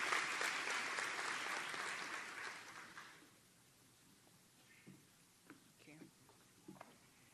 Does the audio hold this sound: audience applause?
yes